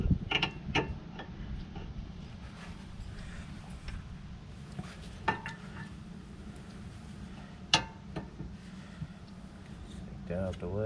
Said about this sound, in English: Pry bar, we're going to open up our caliper.